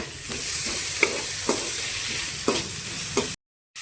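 Ginger garlic paste frying in oil in a pan for egg biryani, with a steady sizzle under regular spatula strokes scraping about every half second, close up, ending abruptly in silence.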